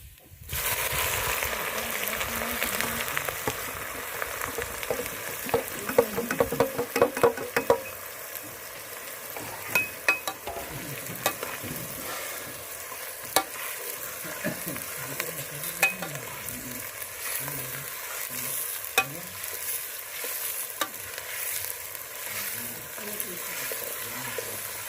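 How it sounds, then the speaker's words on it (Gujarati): Onions frying in a pan for a roasted eggplant dish, a steady crackling sizzle with scattered pops and occasional stirring scrapes, close and continuous throughout. "હવે ડુંગળી નાખી દઈશું"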